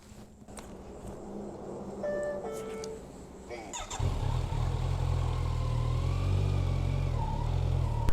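A Kawasaki Z900 naked motorcycle rides along a highway between Vijayawada and Nellore, its engine swelling into a loud, steady low rumble with wind noise after a few quieter seconds.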